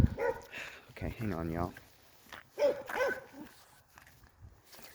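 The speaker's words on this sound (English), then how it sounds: "It's neighbor's dog." Neighbor's dog barks outdoors in short bursts, fairly faint and somewhat distant, mixed with someone talking nearby.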